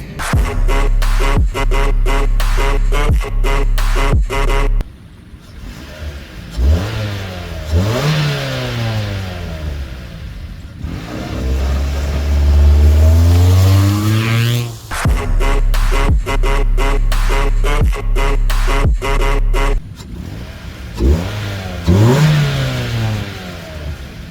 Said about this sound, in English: One significant changes which has done to the car is the sound from the open port air intake.